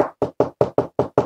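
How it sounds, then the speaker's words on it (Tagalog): Seven quick, evenly spaced knocks on a door, sharp hollow raps about a fifth of a second apart, close and clear with nothing else audible. "Sara Duterte, katok-katok dyan"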